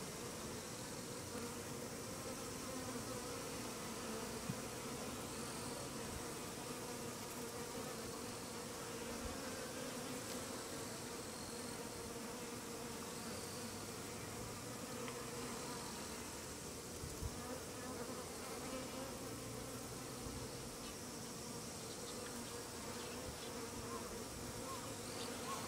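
A swarm of many Japanese honeybees hums in a continuous, dense drone, faint and steady for the whole stretch with no voices.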